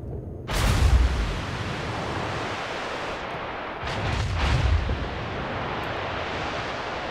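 Main guns of the battleship North Carolina BB-55 in the video game World of Warships fire two heavy, rumbling salvos several seconds apart, each a deep boom over constant ocean and engine noise.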